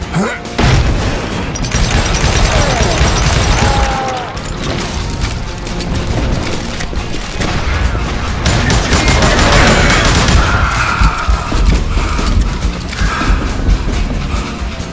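Dense gunfire and booms fill a shootout in the Western video game Call of Juarez Gunslinger, loud and continuous, with overlapping shots and crashes while voices talk over the action.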